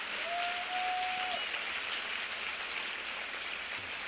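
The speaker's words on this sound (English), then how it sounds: "And I want everyone to give a round of applause to Hillary Rodham Clinton." Steady applause from a large luncheon audience fills the clip, a continuous wash of clapping at moderate level with no talk over it.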